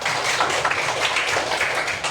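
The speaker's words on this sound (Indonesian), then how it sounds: "Tepuk tangan buat Sisko" A classroom of students applauding for a pupil named Sisko, a brief burst of dense, steady clapping lasting about two seconds.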